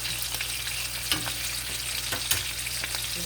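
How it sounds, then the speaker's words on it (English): Food searing in a hot pan to brown its crust, giving a steady broad sizzle up close with a couple of brief scrapes or shifts of the food, no voices. "right now we're just searing it"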